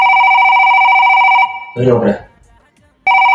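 A telephone rings in a steady electronic tone, loud and close, breaks off while someone speaks briefly, then starts ringing again.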